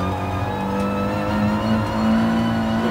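An Audi TT Cup race car on the Nordschleife in the video game GT Sport, its engine note dropping through a downshift then droning on steadily, loud and close with no talking.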